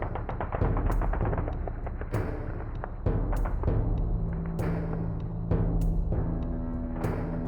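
Gunshots ring out in an animated Warhammer 40k battle at a defended observation post, a steady series of sharp cracks and thuds layered over a dense, continuous battle backdrop.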